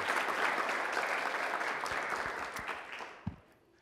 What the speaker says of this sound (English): how about a big round of applause for Romy for playing at the next level?